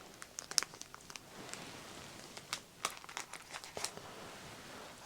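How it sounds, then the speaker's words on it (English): Crinkly plastic clothing packaging handled up close, with scattered soft crackles and rustles at an irregular pace, quiet and intimate. "A bit more crinkly this one, this packaging."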